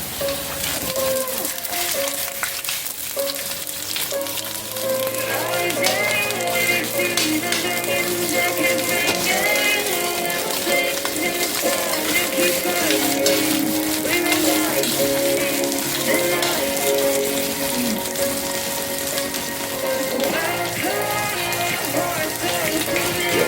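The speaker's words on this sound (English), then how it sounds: "Sautéing the vegetables then. And I'm going to put the onions in." Onions, carrots and other vegetables sauté in a hot pan, giving a continuous crackling sizzle that stays steady and close throughout, with no voices over it.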